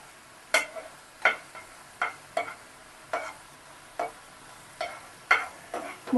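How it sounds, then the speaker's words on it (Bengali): Spices sautéing in oil in a pan for a lauki kofta curry, stirred with a spoon in regular scraping strokes about once every second or so over a faint sizzle, close and clear. "সব মশলাগুলোকে একটু ভালো করে কষিয়ে নেব।"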